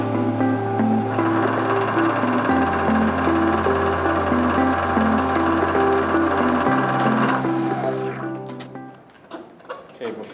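Machine making the final cut on a metal block held in a vise during block squaring: a steady loud mechanical whine with strong tonal hum running for about eight seconds, shifting pitch twice, then winding down into scattered clanks.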